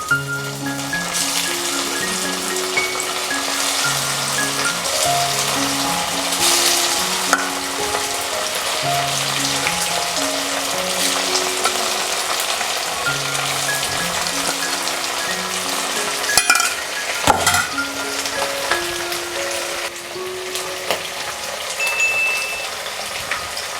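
Chicken 65 pakora deep frying in hot oil, a loud continuous crackling sizzle, with a background melody of stepped tones and a brief clatter near the end.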